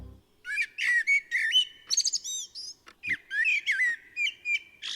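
Bird calls played as a sound effect in place of the expected pheasants: a run of bright chirps, whistles and warbling trills, close and fairly loud, with brief gaps between phrases and no talking.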